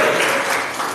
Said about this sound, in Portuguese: Aplauda bem forte ao Senhor aí.